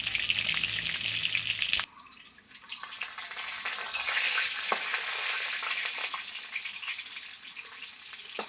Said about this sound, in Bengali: পটলটা একটু হালকা খুব সুন্দর ভেজে নিয়েছি, একটু লবণের গুঁড়ো দিয়ে দিলাম।